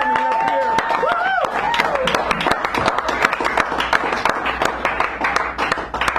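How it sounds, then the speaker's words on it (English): Audience at a café poetry hour claps steadily for a poet coming to the stage, a sustained patter of hands with some talking and crowd murmur mixed in. "Give a round of applause for Letitia coming up here."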